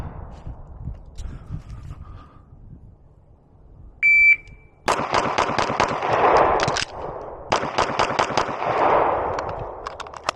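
A Beretta PX4 Compact Carry pistol fires a first shot from single action, then a rapid string of loud, close gunshots, a pause for a reload, and another fast string, with a shot timer's beep just before.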